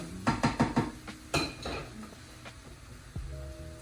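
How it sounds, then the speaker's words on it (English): Ceramic dish and metal utensils clatter down on a kitchen counter in a quick burst of four or five clinks, followed by a couple of softer knocks, close and fairly loud with no talking. "Get my dish to put my utensils on."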